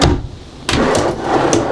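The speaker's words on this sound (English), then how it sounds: "other pull-out drawers." A pull-out kitchen drawer in a 2018 Rockwood 24WS hybrid expandable RV slides and knocks, with a sharp thud midway and lighter clicks after, close and loud, with no talking.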